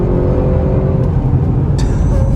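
A 2021 Audi RS6 Avant in dynamic mode accelerates hard, giving a loud, continuous, close engine roar with road rumble and no letup.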